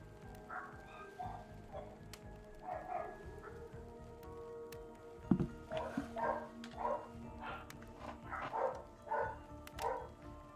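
Dogs bark in a series of sharp, repeated yaps that get more frequent in the second half, set against a low background hum.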